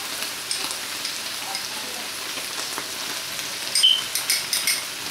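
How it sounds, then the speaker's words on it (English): Spareribs with pineapple bubble and sizzle softly in a pan, a steady crackling hiss with a few louder pops and stirring clinks toward the end, no talking. "This has been simmering for about half an hour now"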